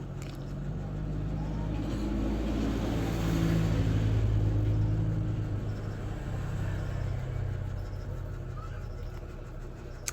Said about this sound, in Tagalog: Sasakyan na mayroong kargang baboy.